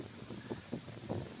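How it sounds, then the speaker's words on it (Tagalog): Gusty wind buffets the microphone in rumbling bursts, a low roaring noise that swells and eases a few times. "Lakas ng hangin."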